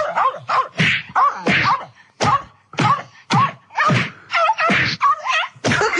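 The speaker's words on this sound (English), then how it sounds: "That's someone beating up a dog." A dog yelps and cries out in about a dozen sharp, loud bursts mixed with thudding hits, as if it is being beaten. The sounds are close and come in an uneven rhythm with short gaps between them.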